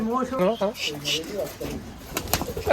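Giribaj pigeons at a pigeon farm cooing close by in several rolling, throaty coos, with people talking alongside.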